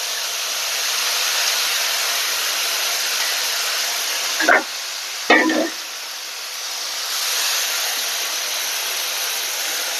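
A steady loud sizzle of hot tempering oil fills the whole stretch, with two brief sharp crackles midway as green chillies hit the pan.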